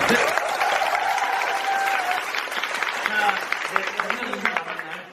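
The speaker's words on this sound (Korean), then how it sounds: "박수!" Audience applause fills the curtain-call stage greeting on the final night of the musical Beastie, a dense, steady clapping that holds loud and close throughout, with scattered voices and cheers mixed in.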